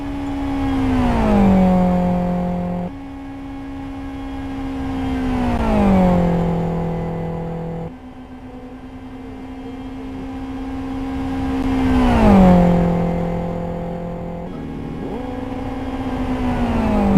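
Race cars pass one after another on a circuit during qualifying, each engine note swelling loud and near then dropping in pitch as it sweeps away, with a steady drone between passes.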